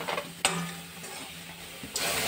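Water hits sesame prawns cooking without oil in a hot wok, bringing a sudden hiss and steady sizzle, with a second sharp burst near the end and faint stirring scrapes, close up.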